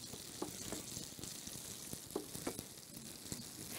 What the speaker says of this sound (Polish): Pięknie, podsmaża się.